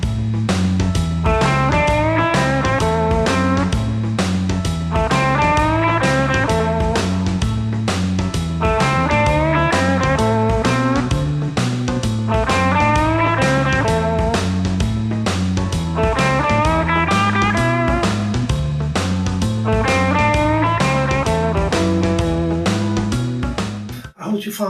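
Electric guitar plays a 12-bar blues in A over full backing tracks, with steady rhythmic chords and drums driving continuously, loud and even throughout until a brief fade at the end.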